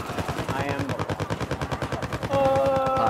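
Rapid gunfire in the video game Battlefield 4 rattles in a fast, steady stream of loud close shots, ending in a brighter burst of noise.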